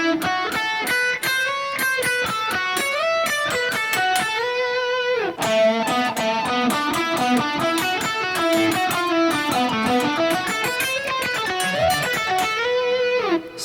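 Electric blues guitar phrase ending with a slide into the root note, played on its own as a continuous, dense run of bent and sustained notes at steady volume with no talking.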